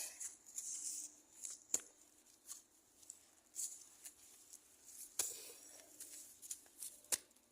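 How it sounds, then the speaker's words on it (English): Grass being cut and pulled by hand outdoors in South Africa, heard as faint, scattered crisp snips and rustles with no talking. "So you see, I can cut grass and remove it."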